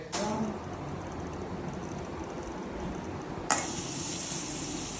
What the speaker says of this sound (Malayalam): അമ്മ സബോള വാട്ടുന്നു.